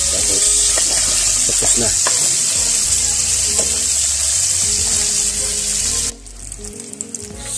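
Broth poured back into a hot pan of squid adobo sizzles steadily and loudly, then the frying hiss drops abruptly to a quieter bubbling near the end. A voice speaks briefly.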